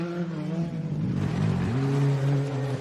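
A rally car, Alex Rullo's, races past at speed on a Queensland forest stage, its engine note loud and rising then dropping in pitch as it sweeps by, with no talk.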